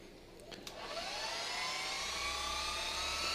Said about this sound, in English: Polishing using a DAS 6 Pro dual action polisher.